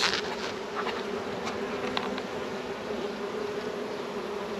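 Steady, dense buzzing of many honey bees around a hive, a continuous close drone with no talking.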